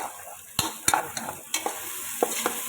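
Spices fry softly in a pan while a utensil stirs, giving several sharp clinks and scrapes at irregular intervals.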